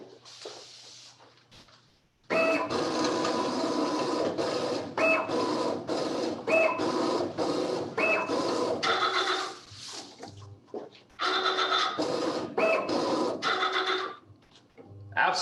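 An STM Atomic Closer machine folds cones in a repeating mechanical cycle of whirring, clacking bursts with short pauses, steady and close after a quieter start.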